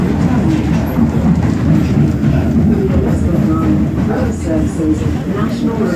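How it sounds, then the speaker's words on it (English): A DLR light rail train pulls into Woolwich Arsenal station, a steady low rumble of wheels and motors running throughout at close range, with faint clicks over the top. "The Greenwich train is coming."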